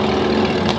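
A steady, low engine rumble idles continuously at close range, with no voices over it.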